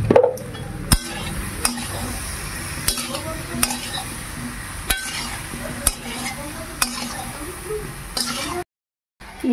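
Jujube pickle mixed with turmeric in a pan, a spoon scraping and stirring with sharp periodic clinks against the metal over a low sizzle, close, a voice speaking now and then, ending in a brief silence.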